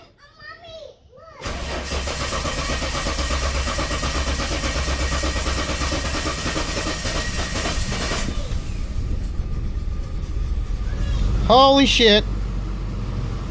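A car engine that had not run in about six months cranks and catches, roaring loudly and roughly for several seconds before settling into a steadier, quieter running note. A voice speaks before the start and another exclaims near the end.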